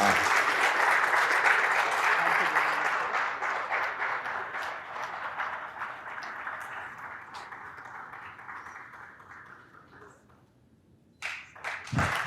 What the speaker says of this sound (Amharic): ጭብጨባም እኮ ያስፈልጋል።